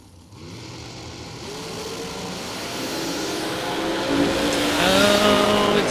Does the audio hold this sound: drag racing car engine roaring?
yes